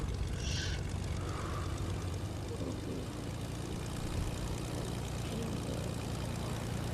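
Propeller airplane engine in the Fortnite battle royale game, a steady droning hum held at an even level throughout with no talk over it.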